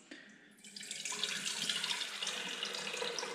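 Tap water runs steadily into an electric kettle, a soft start giving way to a bright, continuous rushing splash that fills the sink area without any talk.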